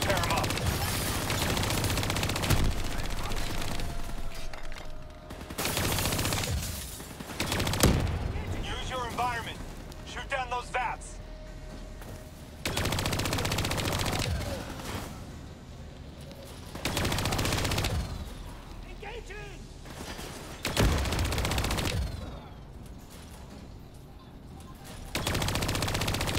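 Hijacked turrets in Call of Duty: Black Ops 3 unleash repeated bursts of heavy machine-gun fire mixed with explosions, the volleys loud and sustained, with speech heard between and under them.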